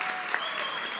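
A short burst of audience applause at a graduation ceremony, dense and even for about a second.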